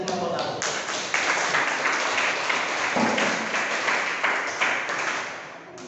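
A room full of people claps steadily for several seconds, the applause loud and dense before tapering off slightly at the end.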